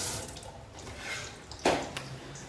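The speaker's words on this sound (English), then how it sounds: "water. See, water." Water runs from a kitchen tap in a quiet rush, with a brief splash or clunk partway through and faint background sounds.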